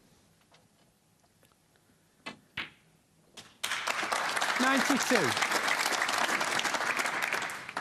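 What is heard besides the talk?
snooker crowd applauding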